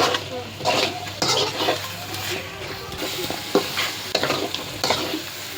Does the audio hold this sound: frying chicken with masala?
yes